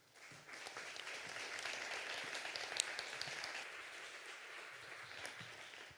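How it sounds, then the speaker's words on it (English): A conference audience applauds a panel: dense, even clapping that rises quickly, holds steady for several seconds and sounds somewhat distant in a large room. "let's first give a warm applause to the panel"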